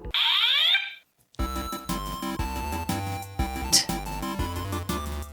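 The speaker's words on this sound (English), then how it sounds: "Someone hacked the fire alarms to play the Super Mario Brothers theme." Fire alarms hacked to play the Super Mario Brothers theme: a rising electronic tone, a brief gap, then a loud, steady run of bright buzzy notes in a bouncy melodic rhythm, with no voices.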